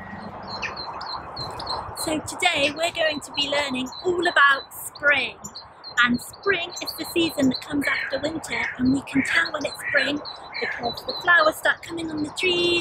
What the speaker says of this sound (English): you can hear the birds tweeting very loudly behind me